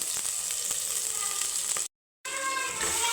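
Onions and green chillies frying in oil for kushka rice, with a dense, loud, continuous sizzle that cuts out briefly and then resumes.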